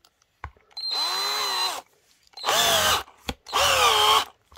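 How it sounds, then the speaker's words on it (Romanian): A cordless power drill fitted with a drill bit whirs in three bursts, a long first run then two shorter ones, close and loud with brief clicks between, ahead of drilling a hole in a key. "uitați, am aici bormașina"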